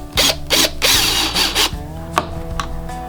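A power drill drives big, wide screws into a Triumph Tigress motorcycle seat base, several short loud whirring bursts close by, each with a grinding bite as the screw goes in, separated by brief pauses.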